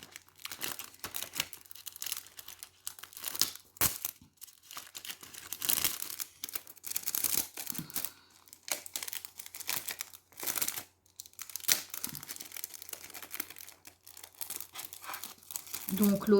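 Plastic packaging from a Disney craft box crinkles and crackles in irregular bursts, with occasional tearing and cutting sounds, fairly close, while a person talks intermittently throughout.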